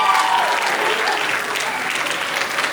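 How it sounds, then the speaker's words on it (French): Wedding guests at an evening dance party in a hall give loud, sustained, dense applause throughout, close and full. "est-ce qu'on peut applaudir très fort pour lui?"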